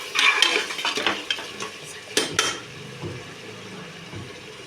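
A spatula scrapes and clatters through softened onions, tomatoes, beans and carrots in a pan for veg biryani, busy stirring early on, then a low sizzle with a few isolated metal knocks.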